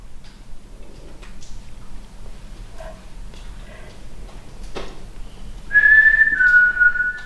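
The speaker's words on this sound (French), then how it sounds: "Ça siffle en même temps que je parle." In a burnt-out tunnel, a thin, high whistle rises clearly near the end, steady then wavering, over a faint background of soft ticks and low hum.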